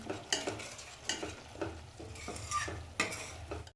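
Spices for a sweet-sour raw mango curry being stirred and fried in a pan, a soft steady sizzle broken by repeated scraping strokes of a spoon against the metal, close and fairly quiet.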